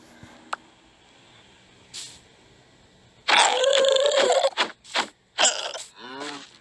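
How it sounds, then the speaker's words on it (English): Burp-like grunting of an animal mob in Minecraft Education with animal mods, a few short raspy bursts after a quiet stretch, close and moderately loud. "Sounds like he burped."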